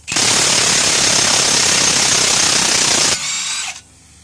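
An impact wrench undoes worn wheel nuts on a Nooteboom four-axle lowloader trailer with a SAF axle, rattling loudly and continuously for about three seconds before a lighter hammering burst and a sudden stop, close by with no talking.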